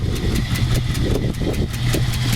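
A 1953 Ford F100 pickup with a restored flathead V8 idles close by, its exhaust loping in a steady, even rhythm with a low rumble that holds for the whole stretch.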